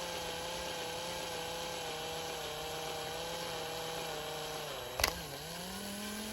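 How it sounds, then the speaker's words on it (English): A small drill whines steadily at a slow, even speed, close up, drilling into a 1/64 scale model John Deere tractor, with a brief scraping catch near the end as the pitch dips. "as I'm drilling this, I'm wanting to keep from splitting the tractor back open"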